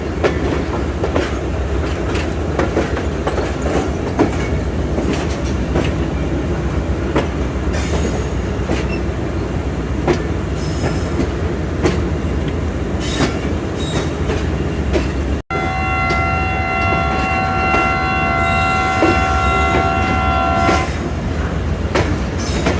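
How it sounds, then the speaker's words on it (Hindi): Millat Express train pulling out of a station after its whistle, with a steady loud rumble of wheels and carriages, clickety-clack on the rails, and a sustained multi-tone horn blast in the final seconds. "मिल्लत निकल रही है, विसल हो चुका है, मूव ऑन ले रही है अभी।"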